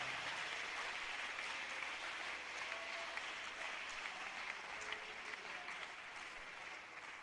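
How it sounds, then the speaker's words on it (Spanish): Sustained applause from a church congregation honoring God, a dense steady wash of many clapping hands that holds at an even level throughout with no voices standing out. "Un aplauso para nuestro Dios,"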